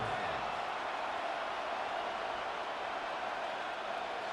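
Stadium crowd in the video game Madden 26 building before a 3rd and goal, a dense, steady roar of cheering that holds at an even level throughout with no break.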